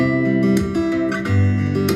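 Acoustic guitar with microphone and pickup signals blended, strumming a short phrase, warm and full-bodied, with crisp pick attacks sounding close, no talking.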